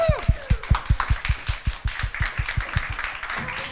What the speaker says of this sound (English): let's give a round of applause to our success panelists